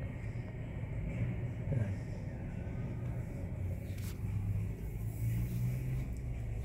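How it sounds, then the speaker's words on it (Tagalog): Traffic rolls along Roxas Boulevard in Manila, heard from a hotel, as a low, continuous rumble of passing vehicles, fairly faint and distant, swelling slightly as cars go by. "kita mo yung mga dumadaan na sasakyan."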